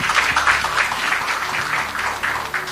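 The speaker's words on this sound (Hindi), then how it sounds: "इस बात के लिए तालियां बजाई जाएं पहले तो।" Audience clapping at a film press event, a brief burst of steady, fairly loud applause with a rhythmic pulse throughout.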